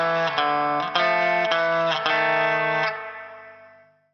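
Distorted electric guitar with effects plays a riff, several sharply struck notes ringing close and loud, ending in a long decaying hold.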